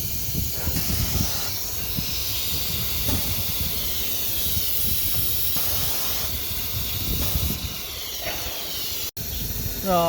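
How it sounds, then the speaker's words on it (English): Pneumatic spindle lift cylinder on a 4-axis CNC router with an oscillating knife, moving the spindle up and down with close, repeated loud air hisses and bursts that come in pulses every second or two. "The spindle lift. It means the spindle cylinder. It will be down or up."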